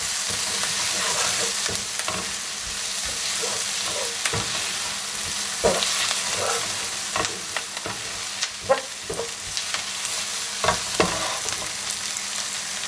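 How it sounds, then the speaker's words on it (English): Garlic stirred through beef stew frying in a pan for Tuscan beef stew: a steady close sizzle with repeated utensil scrapes and knocks against the pan, no talking. "just pop the garlic in. Really, the garlic only needs about a minute in there anyway. Stir it through."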